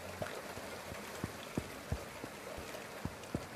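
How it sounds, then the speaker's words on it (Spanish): Rain falls in the video game The Final Station as a soft, steady patter with scattered individual drip ticks, quiet and without speech. "Luego la lluvia le da como un toque"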